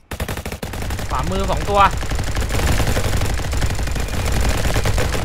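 Shotgun fire in a Roblox copy of Call of Duty, heavy repeated blasts forming a loud, near-continuous barrage, with someone talking briefly over it early on.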